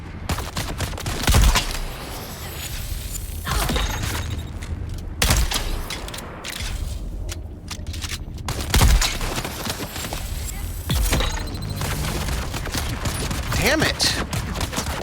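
Weapon gunfire in the sci-fi survival game Dune: Awakening, several sharp loud blasts and bursts spread across the span amid game noise, with someone speaking briefly between shots.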